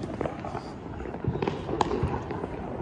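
Diwali firecrackers burst around a street in Amritsar, scattered sharp pops and small cracks at irregular intervals, some near and some farther off, over a busy background.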